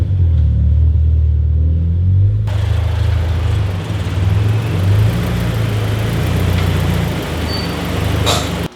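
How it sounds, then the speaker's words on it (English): A widebody Subaru BRZ being backed in, its engine giving a steady, deep idle rumble close by. Partway through, a louder, broader wash of noise joins and continues to the end. "Let's go and back the car in."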